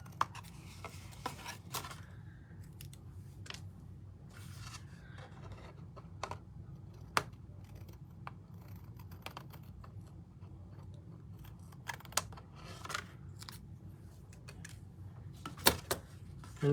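Scissors cut paper strips for a card, giving sparse, sharp snips spread across a steady low background hum, close and fairly quiet.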